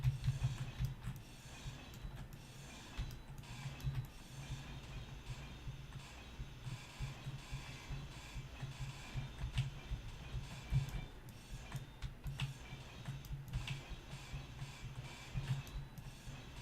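Welding a block in Space Engineers, a steady mechanical whirring hum with rhythmic pulsing rattle running continuously at moderate loudness.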